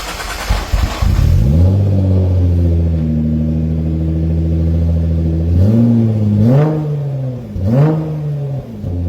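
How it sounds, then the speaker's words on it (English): A twin-turbo Nissan GT-R engine cranks and catches on a cold start, then settles into a loud, rumbling idle, with a couple of sharp revs near the end. "Show you a cold start in the next clip."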